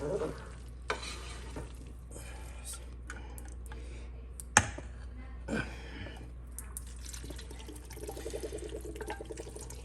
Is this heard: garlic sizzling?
yes